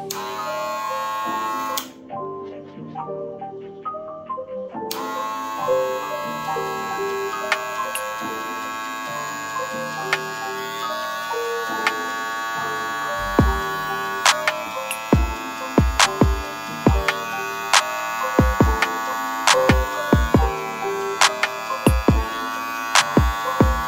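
A custom-built Wahl Magic Clip hair clipper running at 7200 rpm gives a steady, close electric buzz with a layered tonal hum, and sharp clicks and taps break in repeatedly during the second half.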